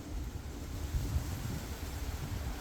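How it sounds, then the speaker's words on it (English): Steady wind buffeting the microphone outdoors in a Texas Gulf Coast garden, a low rumbling roar with gusty swells and no voices. "It's getting a little bit windy."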